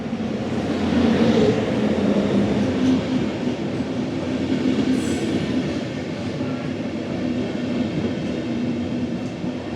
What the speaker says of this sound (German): Wow, der fährt ja richtig schnell hier rein.